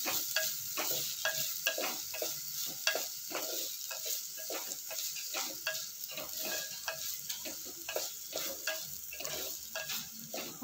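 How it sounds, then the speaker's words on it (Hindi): Onions sautéing in a pan for a Goan prawn chilli dish, with a steady sizzle and the repeated scrape and tap of a spoon stirring at an even rhythm. Quiet and close, with no talking. "ऑनियन तब तक चलाना है जब तक ये ब्राउन नहीं हो जाता, लाइट ब्राउन।"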